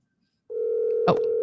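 A telephone call is placed during a livestreamed fundraiser: after half a second of silence, a steady dial tone sounds loudly, broken briefly by a short click or beep near the end.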